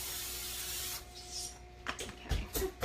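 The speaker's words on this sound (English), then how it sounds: "I'll just grease it with some Pam." Pam cooking spray greasing a baking pan: after a quiet start, several short, close hissing bursts of spray come in quick succession.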